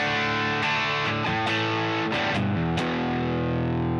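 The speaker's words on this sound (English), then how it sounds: "You would never think to get there with a overdrive pedal going into a high watt amplifier" Overdriven electric guitar through a Nobels-style overdrive pedal into a Hiwatt amp model, a run of loud distorted picked chords and notes with a long sustained chord ringing out at the end, no voices.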